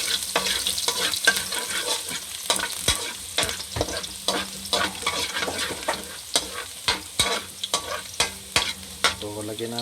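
Garlic fries in a hot pan with a dense, continuous sizzle and a quick run of sharp spatula taps and scrapes throughout, close up and without talking.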